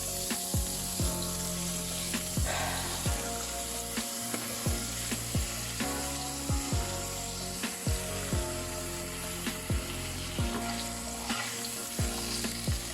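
Steady sizzling of beef kebabs frying in hot oil, with a broad crackling hiss and occasional clinks and scrapes of stirring, no voices.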